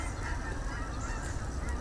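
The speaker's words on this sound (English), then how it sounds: "and here come the ducks" Geese or ducks honk and call continuously outdoors, a dense overlapping chorus of nasal honks at moderate distance with no talking.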